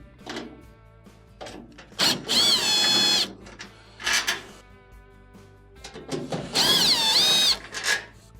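Power drill backing out Phillips screws from the rear of a GE clothes dryer during repair: two close, high-pitched whirring bursts, each about a second long, separated by quieter clicks and handling noises.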